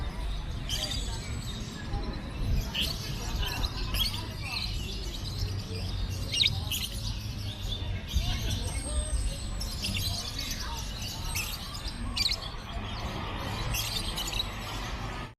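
Songbirds chirp and tweet throughout, with scattered calls over a constant murmur of background noise, at the old Kemayoran Airport site in Jakarta, used for songbird competitions.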